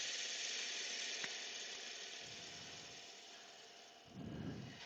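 A 10mm bowl gouge takes light cuts in walnut on a lathe spinning at about 600 rpm: a continuous hissing, scraping whir under a steady motor hum, with a soft thump near the end.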